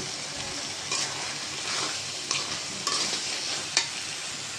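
Chicken meat drops into sizzling spice masala in a pan, and a steady frying hiss follows with several sharp bursts and spoon scrapes as it is stirred, close and fairly quiet, with no voices.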